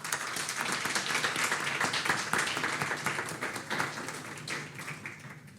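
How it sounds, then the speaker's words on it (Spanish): Modest applause at a panel event on green and social bonds, scattered distinct claps that thin out and fade toward the end, heard fairly faint with no talking. "La recibimos con un fuerte aplauso también."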